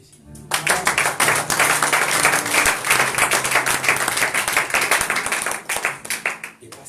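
A church congregation bursting into loud, sustained clapping and cheering for God, dense rapid applause rising after a brief pause and continuing steadily, with voices mixed in.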